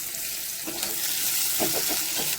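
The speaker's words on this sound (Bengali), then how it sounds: "পেঁয়াজ কুচিগুলো আমি ভেজে নিচ্ছি" Chopped onions fry in hot oil for a Purulia-style chicken kosha, giving a dense, continuous hiss with a few faint stirring clinks; no talking.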